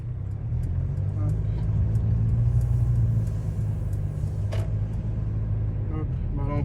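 Mercedes-Benz V-Class 300d Exclusive van driving on a narrow road, a low steady engine and road rumble heard from inside the cabin, with a few faint clicks and knocks.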